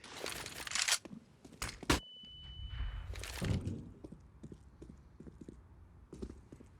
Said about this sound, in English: He hears the footsteps of FNX.